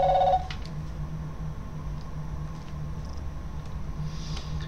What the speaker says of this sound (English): Apparently my phone is ringing.